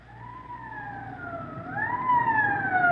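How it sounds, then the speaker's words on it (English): A police car siren in a radio drama wails in long rising and falling sweeps, loud and close, growing stronger toward the end over a low engine rumble. "Code 3, that means red light and siren."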